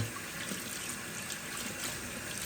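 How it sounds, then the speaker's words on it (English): A shaving brush rinsed under a running tap, a steady faint hiss of flowing water splashing with no pauses. "I'm just gonna rinse this a little bit more."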